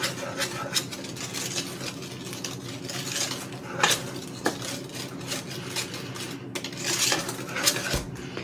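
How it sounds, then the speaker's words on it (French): A utensil stirs melted butter and brown sugar into milk in a pan for cannelé batter, scraping and clinking against the pan close by in an uneven rhythm, with no talking. "Le beurre a fondu dans le lait et je vais mélanger ça."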